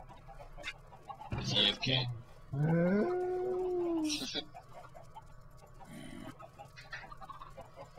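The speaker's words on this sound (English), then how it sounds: "I'm gonna kill these chickens." Chickens in the Minecraft video game give short clucks and squawks that pop up now and then among game sounds, while players talk over them.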